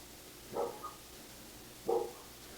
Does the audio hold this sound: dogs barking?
yes